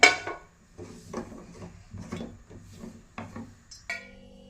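A pan is set on a gas stove and a ladle of oil is added, giving a series of clinks and metallic knocks spaced across a few seconds, with a sharper clatter near the end.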